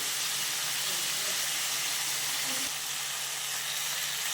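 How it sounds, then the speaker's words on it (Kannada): Masala spices fry in hot oil for palak paneer, a steady close sizzle and hiss running without a break and no voices over it. "ಈ ರೀತಿ ಚೆನ್ನಾಗಿ ಎಣ್ಣೆಯಲ್ಲಿ ಹುರ್ಕೊಳ್ಬೇಕು"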